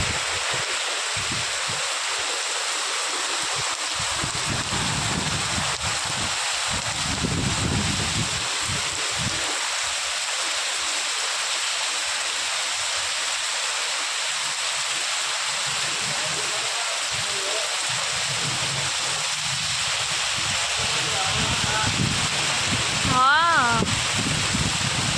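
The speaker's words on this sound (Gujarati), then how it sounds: "બરાબર વરસાદ ચાલુ થઈ ગયેલો છે." Heavy midday rain with gusty wind pours steadily on a village near the Tapi riverbank at Songadh, a dense continuous hiss with a person speaking at times over it.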